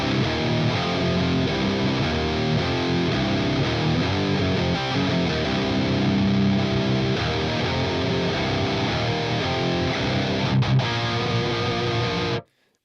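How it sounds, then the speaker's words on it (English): Heavily distorted electric guitar played through an Axe-Fx III preset with no input boost, a dense, sustained wall of chugging riffs at steady loudness that cuts off abruptly near the end, with no talking. "If you have a listen to it without the input boost, it sounds like this."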